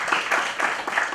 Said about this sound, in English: Can we please have a round of applause for